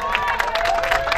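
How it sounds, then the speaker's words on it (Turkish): A crowd claps for the mother at a Turkish village henna night, brief dense applause with a murmur of voices underneath. "Şöyle canlı bir alkış alalım annemizi."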